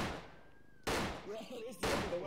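Gunfire in a video game: two loud, sharp shots about a second apart, ringing out with some echo, and a voice speaking briefly between them.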